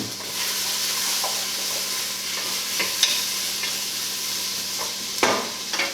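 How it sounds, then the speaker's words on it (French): Onions caramelizing in a pan, giving off a constant close sizzle and hiss, with a few light stirring scrapes and clinks breaking through now and then. "je vais regarder si mes oignons sont caramélisés"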